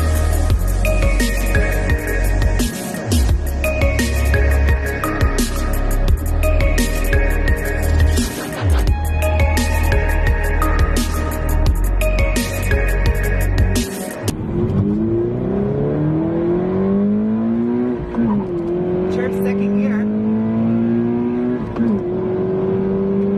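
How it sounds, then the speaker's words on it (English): A Toyota 86 with the FA20 boxer engine roars loudly and steadily close by, holding revs before dropping into a lower, smoother rumble with rising and falling pitch as it accelerates and eases off. "The boxer rumble isn't really that pronounced with the FA20."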